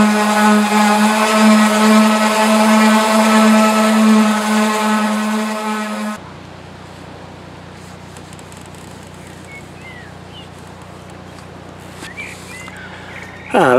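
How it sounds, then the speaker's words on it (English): An electric sander runs loud and steady on the steel bodywork of a narrowboat being prepared for painting, with a strong droning hum that cuts off abruptly partway through, leaving quiet outdoor ambience. "I will have a go with the sander, I think, just to start with"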